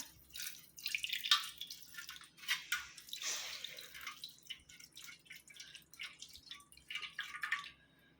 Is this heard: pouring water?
yes